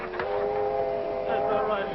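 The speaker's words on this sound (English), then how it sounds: "But there's the train." Train passing with a steady whistle or horn tone held over the rumble of rail cars, close and loud for a couple of seconds, in a 1955 film scene.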